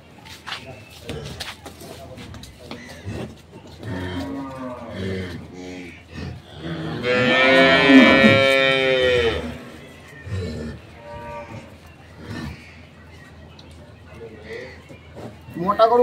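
Dairy cows in a farm setting with a herd of milking cows, one giving a single long, loud moo midway while people talk casually nearby before and after it.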